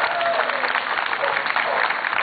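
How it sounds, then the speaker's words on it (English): A crowd at a Second Amendment rally in Hartford claps steadily, a dense, loud wash of applause that runs the full length without a break. "Give yourselves a round of applause."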